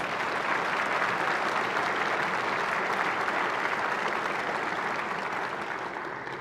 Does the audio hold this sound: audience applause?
yes